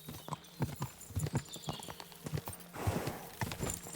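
Horse hooves clip-clop in Kingdom Come Deliverance 2 as a cheap old nag is ridden, giving a quick, uneven run of close, sharp hoof strikes, with a snort near the end.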